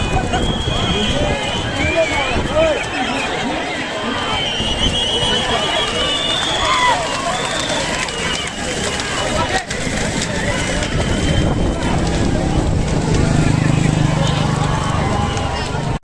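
Fourteen bullock carts race in the final heat of the Alibag-Kihim bullock-cart race, a steady rush of hooves and rolling wheels under an excited crowd and a commentator talking loudly throughout.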